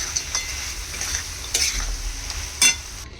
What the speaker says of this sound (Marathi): या ज्या गाठ्या आहेत ते टाकायचे आहेत आणि त्याला व्यवस्थितपणे मिक्स करून घ्यायचे आहेत